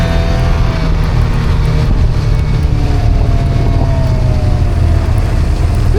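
A snowmobile runs along a trail with a loud, steady engine drone and rumble, heavy wind buffeting the microphone throughout, no voices.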